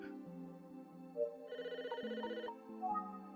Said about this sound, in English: The phone's ringing. No one's here to answer.